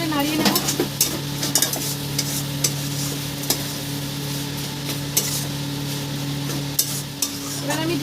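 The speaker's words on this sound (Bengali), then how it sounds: "দিয়ে আমি ভালো করে নাড়িয়ে নেব।" Sugar being stirred into chicken mocha in a pan, with a steady frying sizzle and repeated sharp scrapes and taps of a spoon against the pan.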